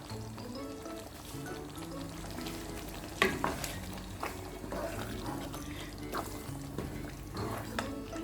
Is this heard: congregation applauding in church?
no